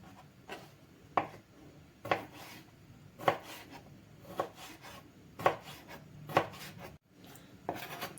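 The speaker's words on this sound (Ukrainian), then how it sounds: "Слід за яйцями нарізаю мариновані огірки." A knife chops small pickled cucumbers into thin strips steadily on a cutting board, roughly one crisp cut per second, close and fairly quiet in an otherwise still room.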